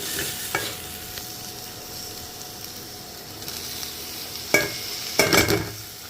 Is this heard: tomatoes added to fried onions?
yes